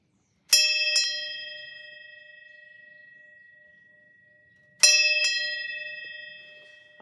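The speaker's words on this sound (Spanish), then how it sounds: "Y ahora vamos a ver cómo sonaría la campana esta, sí, con la nueva cuerda." A large church bell with a newly fitted clapper rope strikes twice several seconds apart, each a loud, bright clang followed by a quick second hit and a long, slowly fading hum.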